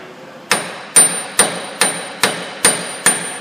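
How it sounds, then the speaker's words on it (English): A hammer strikes an axle shaft nut on a Ford front wheel bearing seven times in a steady rhythm, each blow a sharp, ringing clank, close and loud with no talking. "Put the nut back on there flush and tap on it."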